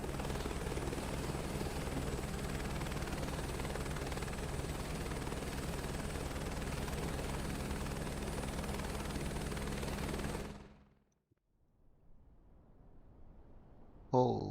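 A helicopter in Microsoft Flight Simulator 2024 career mode holds a loud, steady rotor-and-turbine drone that cuts out abruptly near the end, leaving near silence before a brief burst of sound.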